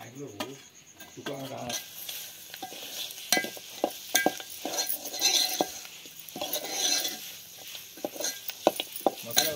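Chicken cooking in a pot over a wood-fired clay stove: a continuous sizzle and bubbling with repeated metal scraping and clinks of stirring, all close and busy throughout.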